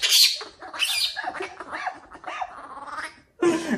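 A mother dog gives several short, sharp barks and yelps, fairly close and loud, in irregular bursts with brief pauses between them. No talking is heard.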